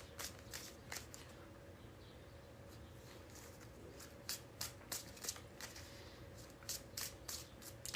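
Tarot cards are shuffled in quiet, soft bursts of riffling and flicking, spaced irregularly and then clustered more tightly toward the end, close and faint in a hushed room.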